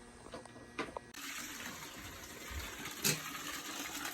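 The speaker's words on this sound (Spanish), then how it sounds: "Estamos sacando agua porque" Water draining from a heating boiler that will not light and is making strange noises, a steady broad rushing flow with a few brief splashy bursts.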